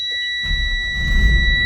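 A school bus low air pressure warning buzzer sounds as a steady high-pitched electronic tone, triggered at 60 psi during a pretrip inspection, continuous over a rumbling low-frequency background.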